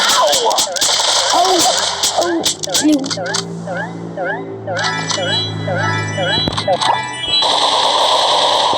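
Gunfire bursts crackle in the mobile game Brawl Stars over busy chirping game effects and music, while players talk loudly over the shooting throughout.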